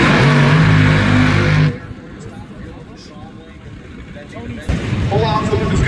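Top Fuel dragster at the NHRA Gatornationals, Doug Coletta's car, with a loud, harsh engine roar that cuts off abruptly, drops to a low rumble, then surges back, while a commentator talks over it.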